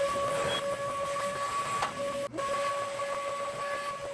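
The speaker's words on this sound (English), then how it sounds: "Alright, I'm gonna vacuum up that hole." A shop vacuum runs continuously with a steady whining hiss and tonal hum while sucking dirt out of an engine hole on a brick-nose Ford F150 truck during an EFI to carb conversion, with one brief dip midway.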